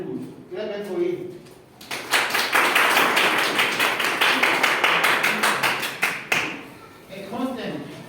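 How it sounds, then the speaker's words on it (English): A classroom of students breaks into a sustained round of rhythmic hand clapping lasting about five seconds, loud and close, with voices heard briefly before and after. "Clap hands for it."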